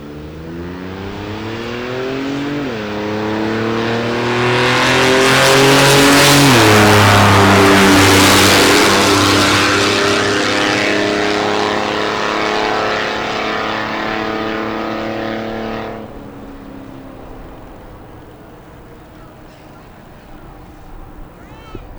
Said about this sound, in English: It's a little 4-cylinder Mazda pickup. Leaves first.